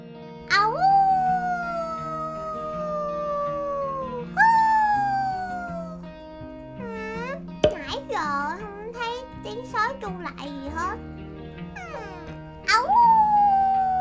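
Snow wolves in Minecraft give long, falling howls, three drawn-out calls spread over the stretch. Wavering whines and yelps fill the gaps between them.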